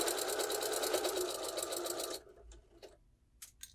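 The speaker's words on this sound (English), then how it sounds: "make sure to backstitch several times, because when we go to stuff this thing, you're going to be putting a lot of pressure on that seam" Sewing machine running a close, rapid stitch along a dog bone pillow seam for about two seconds, then stopping, followed by a few faint clicks and handling sounds.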